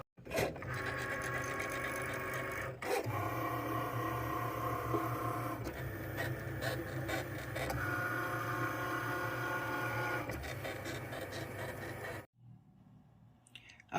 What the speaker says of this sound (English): It's going to recognize the pen first and start the drawing process.